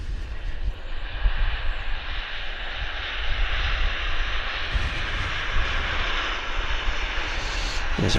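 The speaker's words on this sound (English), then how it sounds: "And we've got a Q400 landing." A Q400 turboprop airliner lands at Vancouver Airport, its engines giving a steady, broad roar with a propeller drone that holds loud and constant throughout and swells slightly partway through.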